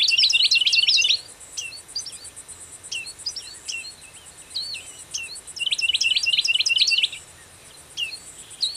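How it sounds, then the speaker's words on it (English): Songbirds singing in a wetland, bright chirping phrases in bursts, louder at the start and again midway, with softer calls between and a faint insect hum beneath. "Songbirds drift in and out with changes in the weather and the cycling of the seasons."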